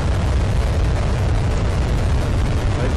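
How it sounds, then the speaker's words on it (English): A United Launch Alliance Delta IV Heavy rocket lifts off carrying the NROL-71 satellite, its engines producing a continuous, loud, crackling roar that fills the whole clip without pause. "liftoff of the United Launch Alliance Delta IV Heavy rocket with NROL-71 for the National"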